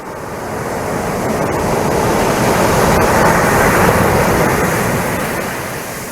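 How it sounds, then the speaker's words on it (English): Steady broadband wash of sea surf rolling onto a beach, swelling and fading gently over several seconds, close and fairly loud with no voices. "the sound of the waves crashing on the beach"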